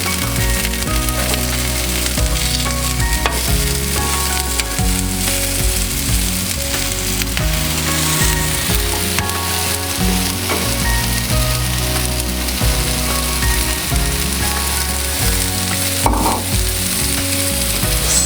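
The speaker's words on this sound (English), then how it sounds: "So I basically just heat the tortilla in the skillet" A tortilla heating in a hot skillet, giving a loud, continuous close-up sizzle and crackle that holds steady throughout with no talking.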